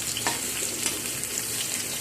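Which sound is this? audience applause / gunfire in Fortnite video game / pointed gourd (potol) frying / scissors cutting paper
pointed gourd (potol) frying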